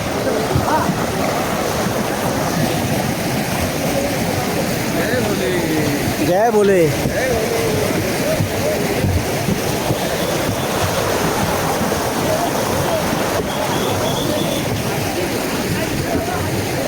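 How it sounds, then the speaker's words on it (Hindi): Steady, loud rushing water of a mountain stream roars continuously throughout on the Amarnath Yatra trail, with wind buffeting the microphone and a brief voice speaking over it midway. "पानी की आवाज़ आ रही होगी।"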